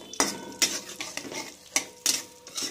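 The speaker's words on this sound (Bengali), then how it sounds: "এটাকে এবার নাড়তে থাকবো।" Cardamom pods and raisins stirred in oil in a pan for chickpea-lentil halwa, heard as a handful of distinct spoon scrapes and clinks against the pan, close and fairly loud with short pauses between strokes.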